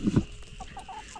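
Chickens on a farm, with roosters among them, give two loud close clucking bursts at the start, then softer scattered calls further off.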